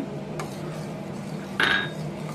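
Vegetables such as peas tipped into a pan of sautéed masala for veg dum biryani, giving a soft clink of a metal utensil, then a brighter scrape and sizzle partway through, close and moderately loud.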